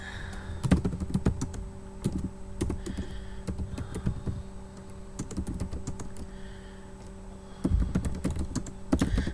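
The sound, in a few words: typing on a computer keyboard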